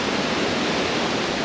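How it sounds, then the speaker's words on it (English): Large ocean waves beside the cruise ship Harmony of the Seas, a dense steady rushing wash heard from on deck, loud and unbroken with no talk. "Look how big these waves are today."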